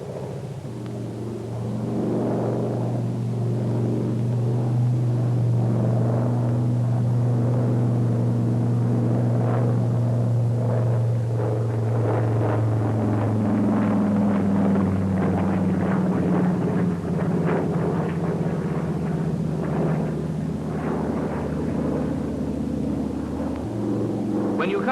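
SB2A Buccaneer aircraft engine in flight during a vertical bank at 170 knots, a loud continuous droning roar with steady low tones that shift slightly in pitch as the bank proceeds, filling the whole span.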